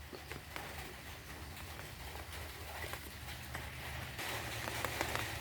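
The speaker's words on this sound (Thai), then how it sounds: "โอ้ยฝนตกครับผมทุกท่าน" Heavy rain pelts down steadily in a continuous dense patter with sharp irregular drops striking a surface close by. It grows a little louder near the end, and no voices are heard.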